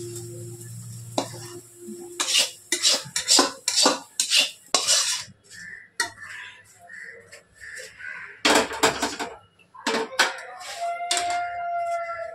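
Cooked rice is scraped and tipped into a cooking pot that already holds more rice, giving a series of close metal spoon scrapes and clatters against the pot with short pauses, for a Sunday fried rice meal.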